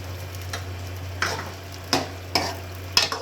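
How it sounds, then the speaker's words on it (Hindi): Green chillies frying in a kadai with chicken for chicken daal: a low background sizzle under a low steady hum, punctuated by four or five sharp spatula scrapes and taps at uneven intervals, with no voices. "इसको थोड़ा सा भून लेंगे।"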